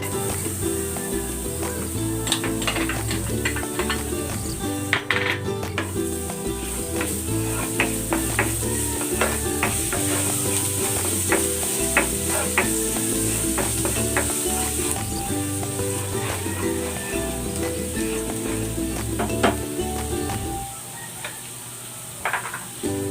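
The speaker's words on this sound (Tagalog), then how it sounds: "Maglagay tayo ng mantika. Igisa natin tong bawang." Garlic sautéing in hot cooking oil for a pork dish, a steady loud sizzle with scattered crackles and pops that runs for about twenty seconds, then drops quieter near the end.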